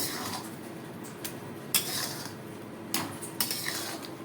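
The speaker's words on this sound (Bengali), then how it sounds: "একটু নাড়াচাড়া করে নেব" Khichuri being stirred in a cooking pot with ghee, a low steady cooking hiss broken by a few sharp spoon scrapes and clinks against the metal.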